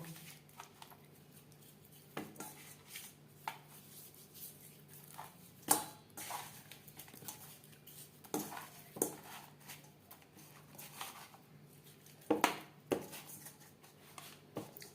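Bhangor fish pieces are rubbed with salt and turmeric in a bowl, producing soft irregular knocks, squelches and clinks of hand and metal against the bowl, quiet and close.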